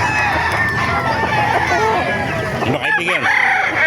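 Roosters crow loudly and repeatedly over a busy chicken market din in Calumpit, Bulacan, with people talking nearby.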